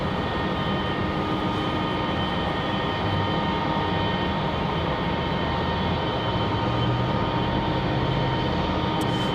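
A Republic Airways jet departing Raleigh-Durham for Pittsburgh gives off a steady, moderately loud engine drone with a constant whine, unchanging throughout, and no voices over it.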